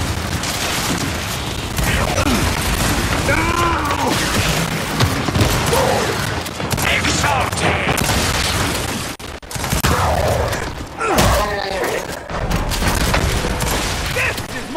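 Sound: fire grenades exploding in Gears 5 video game

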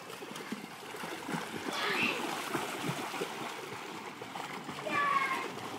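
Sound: children splashing while swimming in a pool

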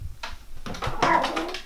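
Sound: Blue Point Ragdoll kitten meowing

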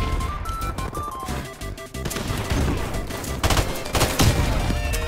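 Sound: semi-automatic gunfire in video game Modern Warfare Remastered

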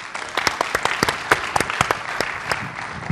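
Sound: audience applause for speaker Mike

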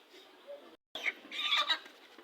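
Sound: chickens clucking

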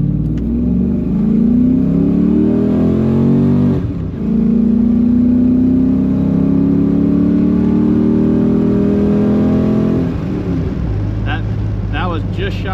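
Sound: LS1-powered Jeep Grand Wagoneer accelerating on test drive

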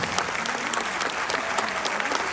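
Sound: audience applause for the musicians

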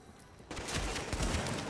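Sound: gunfire in the video game The Division

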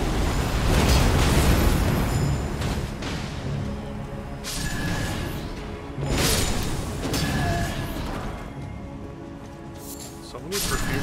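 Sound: fire spell explosions in the video game Elden Ring

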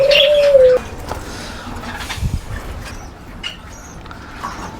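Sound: pet birds cooing

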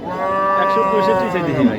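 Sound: cow mooing at cattle market

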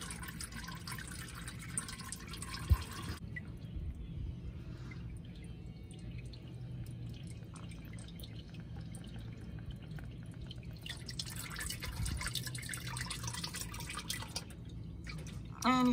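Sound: engine oil dripping from 2019 Silverado 5.3L drain plug

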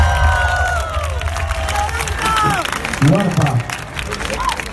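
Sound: applause and cheering

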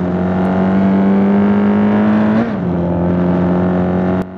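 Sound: car engine revving in a mobile racing video game

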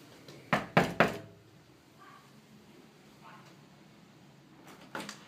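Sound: knocking on a door

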